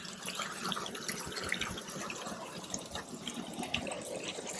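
Water rinses and drains out through the drain plugs of an air conditioner, a continuous low gushing and trickling wash with uneven splashes throughout, faint and fairly close.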